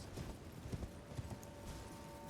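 Faint, soft hoofbeats of a horse in Elden Ring: Shadow of the Erdtree, a steady low clip-clop under quiet game ambience, with no speech.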